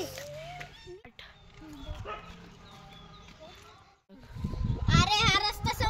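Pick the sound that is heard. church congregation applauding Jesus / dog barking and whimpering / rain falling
dog barking and whimpering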